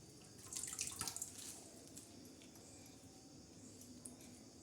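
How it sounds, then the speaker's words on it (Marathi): Faint water sloshes and swishes as onion greens are rinsed, a brief burst of splashing early on, then soft trickling and drips fading into quiet. "सर्व अशी भाजी आपण मस्त पाण्यातून काढून म्हणजे स्वच्छ अशी धुवून काढत आहोत"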